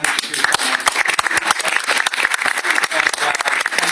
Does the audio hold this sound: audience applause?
yes